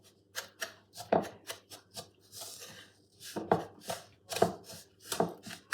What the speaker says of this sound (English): So we're still at that stage where we're getting the sugar to mix in with that butter